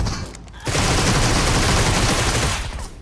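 Sustained automatic gunfire in the battle royale game PUBG, a dense, loud burst of rapid shots that lasts most of the moment before trailing off.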